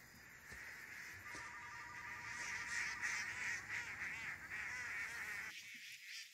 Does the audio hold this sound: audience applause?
no